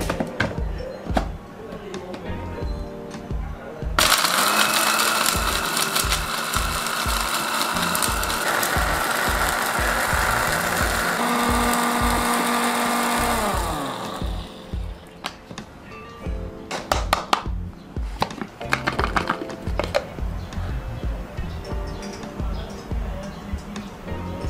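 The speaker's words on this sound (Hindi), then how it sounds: "तो चलिए अब इन मसालों को ग्राइंड कर लेते हैं।" Electric grinder whirring loudly as it grinds tea masala spices, a sustained harsh mechanical roar of about ten seconds that starts abruptly and then winds down, with clattering kitchen sounds before and after.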